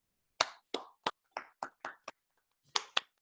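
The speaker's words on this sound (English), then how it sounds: "just give Gregory a usual applause for a very entertaining lecture" A handful of separate claps from an online lecture audience, sparse and uneven hand slaps spaced out with a brief pause before a final pair, close and fairly quiet with no talk.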